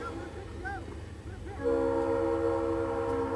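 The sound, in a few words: train horn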